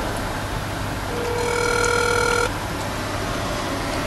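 Telephone ringing over a steady background hum: one sustained electronic ring tone sounds clearly for about a second, then stops, with no voices.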